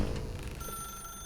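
A telephone ringing in The Stanley Parable video game, a sustained electronic ring tone holding steady at moderate volume, with no voices.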